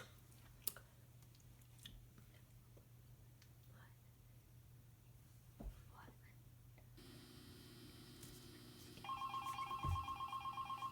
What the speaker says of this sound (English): Mr. Phone Man, can you please be quiet?